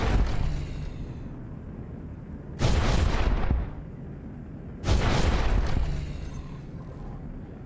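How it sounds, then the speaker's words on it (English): A video game autocannon fires in two separate heavy bursts a couple of seconds apart, each loud, booming and roughly a second long, with a steady low rumble filling the gaps between them. "Oh, that's the autocannon."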